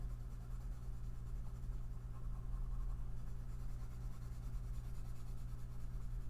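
A pencil shades a flat tone on paper, a soft, continuous scratchy rasp of graphite rubbing steadily back and forth, close up and faint, with a low room hum underneath and no talking.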